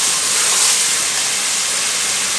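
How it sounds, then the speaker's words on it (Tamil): Curry leaves added to hot oil while making South Indian mushroom kulambu, giving a loud, steady, close sizzling hiss that fills the whole stretch without a break. "இப்போ கறிவேப்பிலை சேர்த்துக்கிடலாம்"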